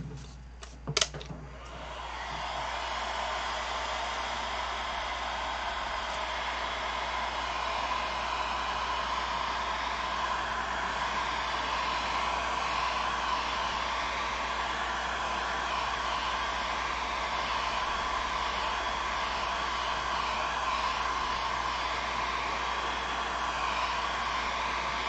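A hair dryer blows continuously on paint drying on a craft swap packet. After a few brief clicks and handling noises at the start, its loud, steady whoosh runs close and unbroken throughout.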